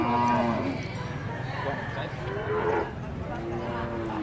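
Carabao water buffalo at a stockyard low out in long, deep moos, several overlapping calls rising above a steady murmur of livestock and crowd noise close by.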